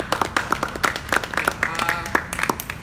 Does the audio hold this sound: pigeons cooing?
no